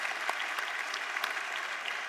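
Steady audience applause at the Smart Green Awards greets the project of the year, a brief continuous wash of many hands clapping with a few sharper claps standing out.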